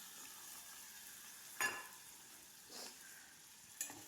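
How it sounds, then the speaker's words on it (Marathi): Moth beans (matki) sautéing in a pan for Kolhapuri misal, a faint steady sizzle broken by three brief louder stirring scrapes spaced across the moment. "मटकी दोन ते तीन मिनटं आपल्याला छान असं परतून घ्यायची आहे"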